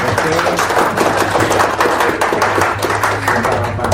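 Louder applause from participants at an industrial relations training session, a dense, steady patter of many hands clapping for several seconds, close and energetic, with a faint low hum beneath.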